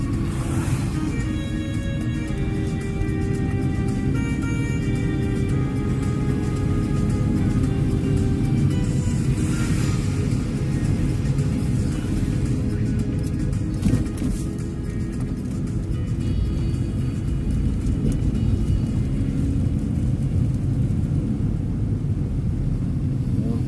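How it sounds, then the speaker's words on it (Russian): A city bus in snowy Pavlodar pulls up to a stop, its engine a low, continuous rumble throughout with mid-range whine and brief clanks and hisses along the way. "Как-то автобус странно подъезжает к остановке"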